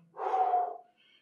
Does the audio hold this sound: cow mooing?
no